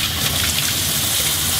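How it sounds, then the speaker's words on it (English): Raw cut potatoes swirled by hand in a bowl of water to rinse off the starch, a steady close sloshing and splashing with a bright, rain-like wash of water sound throughout. "if I just mix this around, look how murky that water has gone"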